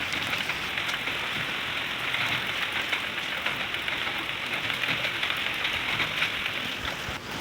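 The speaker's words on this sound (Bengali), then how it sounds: "সমানে বৃষ্টি হচ্ছে।" Heavy rain pours steadily during a storm, making a dense, even hiss of drops hitting surfaces close by, with no voices over it.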